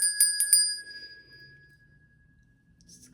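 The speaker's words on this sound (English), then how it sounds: "And I'm also gonna just ring the bell." A bell is struck twice in quick succession at the start and then left ringing, a clear bright tone that sustains and fades over several seconds, rung to clear energy in a quiet room.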